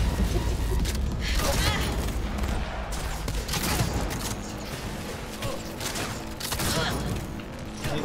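Rapid bursts of police gunfire in the Cyberpunk video game, loud and dense with booming shots and mechanical clatter over the full stretch, layered with game effects and chatter.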